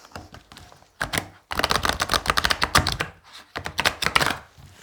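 Tarot cards being shuffled by hand, a run of rapid papery riffles and soft flicks in close bursts with brief pauses between them, no talking.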